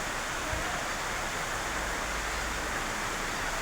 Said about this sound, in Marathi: छानपैकी मस्त असा पाऊस पडत आहे